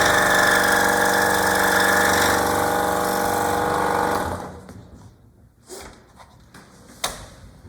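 A scroll saw cuts through wood for an inlay, a steady loud buzzing hum running for about four seconds, then stopping, followed by a few light clicks and knocks.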